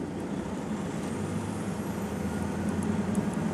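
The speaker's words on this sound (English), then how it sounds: "I'm going to give the truck some fuel to bring it up to 1400 RPM so the PSI builds faster." A heavy truck's diesel engine is held at about 1400 RPM during an air brake check to build air pressure, giving a steady, even low drone with a constant rumble and no voices.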